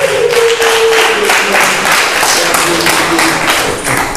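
A church congregation claps steadily and loudly in acclamation during a service, a dense, continuous patter of many hands with a faint sung or instrumental tone running underneath.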